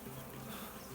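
Dense swarm of bees droning steadily during a bee removal, a continuous faint buzz with no breaks for the whole second.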